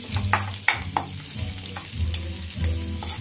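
Drumsticks tempering in hot oil crackle and sizzle steadily, with sharp spits and pops over a continuous frying hiss close by.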